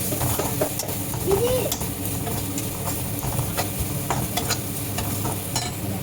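Spices fry in a hot pan while being stirred, a dense steady sizzle with scraping and clinking of the spoon against the metal, fairly loud and close throughout.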